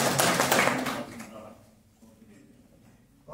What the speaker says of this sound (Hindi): सूबेदार साहब का जोरदार तालियां बजाइए